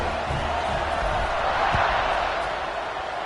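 A college football stadium crowd roars steadily during a kickoff, a broad, continuous wash of cheering and noise heard from a distance, with no single voice standing out.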